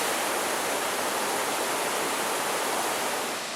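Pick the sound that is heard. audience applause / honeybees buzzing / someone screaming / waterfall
waterfall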